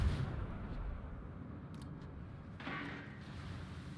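Battleship main-gun fire in World of Warships, played as the Russian tier 5 battleship Oktyabrskaya Revolutsiya, with deep booming salvos and rumbling low-end blasts, one near the start and another around two and a half seconds.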